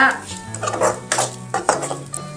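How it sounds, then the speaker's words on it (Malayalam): A spatula stirs a tender jackfruit stir-fry mixture in a pan, scraping and clattering in short uneven bursts over a faint sizzle. A tonal voice-like hum runs underneath. "ഇളക്കി കൊടുക്കണം കരിഞ്ഞു പോകാൻ പാടില്ല"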